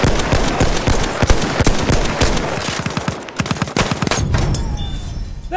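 Rapid machine gun bursts in the Battlefield 1 video game, a dense, loud stream of automatic fire mixed with other gunshots in the battle, all continuous with no pauses.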